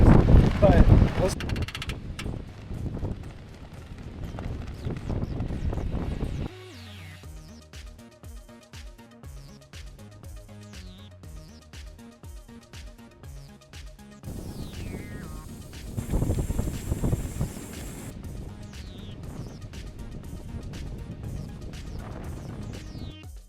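Strong gusting wind of about 40 mph on the Oregon coast roars into the microphone in heavy rumbling bursts, easing off in the middle before returning loud and buffeting.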